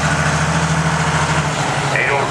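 An International 806 tractor engine idles with a steady, loud low rumble at a tractor pull, while an announcer speaks over it.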